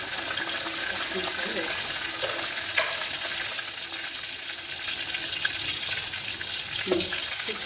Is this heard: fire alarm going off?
no